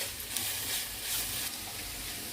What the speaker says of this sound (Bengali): একটু নাড়াচাড়া করে নেবো এটাকে।